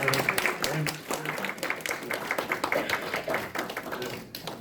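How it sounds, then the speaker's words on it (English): Guests at a 60th wedding anniversary dinner applaud, with a dense, steady run of clapping that thins out toward the end, heard indoors at moderate distance. "I think the applause that you just heard attests to"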